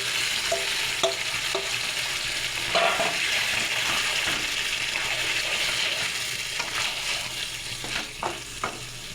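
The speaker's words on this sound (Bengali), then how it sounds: "এই মাংসটা যে সব মাখিয়ে রেখেছি সব দিয়ে এটা আমি কড়াইতে ঢেলে দেবো" Marinated chicken with whole garam masala is tipped into hot oil in a wok, giving a steady, loud sizzle and frying hiss with scattered clinks of stirring, no talk.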